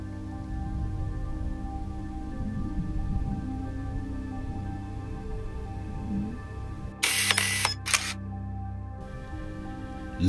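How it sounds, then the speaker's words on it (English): Camera shutter clicks from a screenshot capture on a high-altitude balloon flight recording: two short bursts around the seven and eight second marks, over a steady low background hum. "you'll hear the sound as I take two screenshots"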